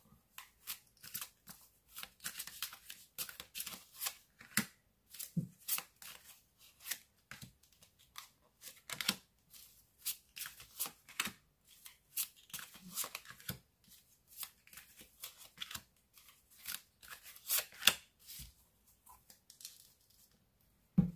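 Tarot cards are shuffled and drawn in quick, crisp bursts of riffling and flicking, close and fairly quiet, with short pauses in between.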